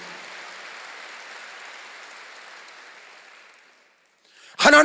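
A church congregation applauding during a sermon, with steady, diffuse clapping that fades away over a few seconds before a loud voice cuts in abruptly at the end.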